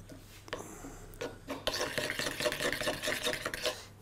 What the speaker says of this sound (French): je vais ensuite la mélanger au chocolat que j'ai cassé finement dans un petit bol